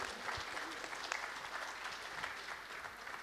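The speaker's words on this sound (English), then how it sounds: "A big round of applause for my panelists" Conference audience applauding panelists at the end of a medical session, a steady dense wash of clapping that fills the hall from start to finish, fairly distant and even in loudness.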